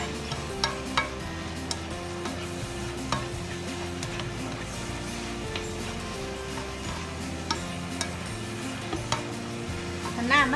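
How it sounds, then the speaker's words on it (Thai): Tofu stir-fried with ginger and vegetables in a pan, with a steady sizzle and regular clicks and scrapes from the utensil as the food is turned, close and continuous. "ผัดไปผัดให้ผักสุกก็แปลว่า ถือว่าสุกนะคะใช้ได้"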